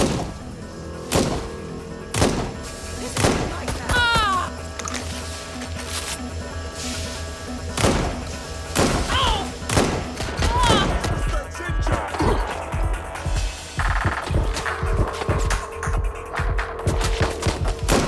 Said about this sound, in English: I'm hit. I'm taking fire.